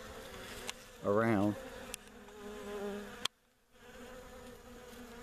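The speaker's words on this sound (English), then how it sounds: "you can see there's tons and tons of honeybees" A dense swarm of honeybees buzzing steadily around a brood box outdoors in wooded country, with a few louder passes close by and a single short spoken word.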